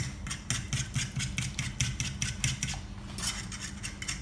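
A fork or egg beater whisking a mixture in a pan for white sauce pasta, producing a fast, steady metallic clatter of repeated beats with a brief slackening near the end.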